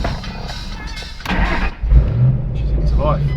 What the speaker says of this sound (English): hold down the engine start button just down here.